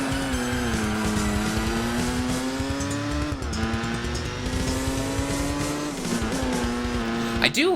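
Race car engine in Gran Turismo 4, a loud steady high-pitched drone that climbs and drops with gear changes, with brief tire squeal near the end; a voice talks over it.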